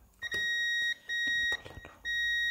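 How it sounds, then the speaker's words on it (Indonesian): Digital multimeter in continuity buzzer mode testing a shorted diode on an audio mixer circuit board, giving three steady high-pitched beeps of about half a second each, close and clear over faint handling noise. "Ini kita cek dengan mode buzzer."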